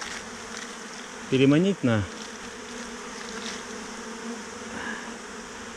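A swarm of honey bees flies into an apiary, its dense steady buzzing hum continuing throughout, with someone speaking briefly over it.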